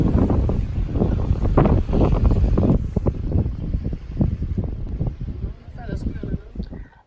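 A sailboat of about eight to nine meters is under sail off Sicily, with strong wind buffeting the microphone and rushing water, while people talk over the blustery noise.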